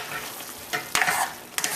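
Eggplant and pieces of leftover stewed pork are stirred in a hot pot, giving a steady close sizzle broken by a few sharp scraping clatters of the utensil.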